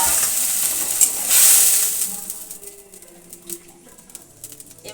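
Cut, washed mango pieces drop into hot oil, giving a brief loud hissing sizzle that quickly settles into a softer, crackling fry with a few faint pops.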